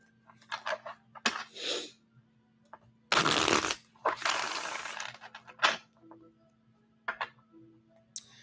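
Tarot cards are shuffled in irregular bursts of riffling and slapping, loud close flurries separated by short pauses, with a faint steady hum underneath.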